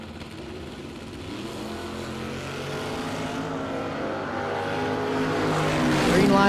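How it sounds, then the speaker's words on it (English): Drag racing cars, including a Camaro, sit at the starting line of a drag strip, engines droning loudly and steadily, then rising in pitch and volume toward the end with no talk over them. "Pratt left side in the Pratt Racing Engines Camaro, dial 592"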